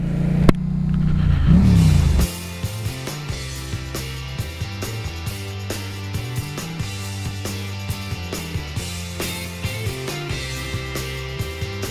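A Yamaha MT-07 motorcycle engine on a test ride, first a loud close rev and rumble, then a steady running drone with shifting pitch as the bike rides along, no speech.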